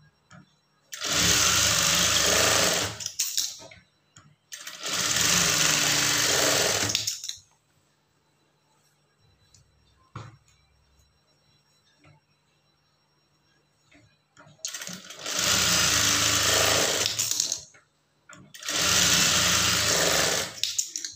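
A sewing machine stitches a half-inch shoulder seam on a blouse in four loud whirring runs, two early and two late, with a long quiet stretch of faint handling between them.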